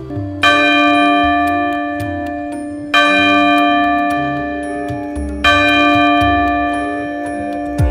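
A large 150 kg eight-metal (ashtadhatu) bell hangs above the Nandi statue at the Chausath Yogini temple in Bhedaghat, Jabalpur. It is struck three times at even intervals, each loud, ringing clang decaying into a long shimmering hum.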